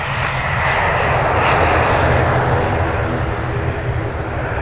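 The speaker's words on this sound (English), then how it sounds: "there's a plane just landing" Powerful jet airplane noise from a plane landing rumbles continuously nearby, a dense whooshing roar with a slight swell partway through, no voices over it.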